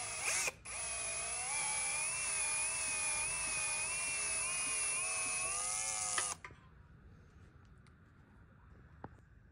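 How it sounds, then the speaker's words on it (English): A power drill whines steadily for about six seconds while loosening studs, its pitch wavering slightly under load, then cuts off abruptly, leaving quiet room noise. "I just tighten my drill up on the stud and then get the loosening."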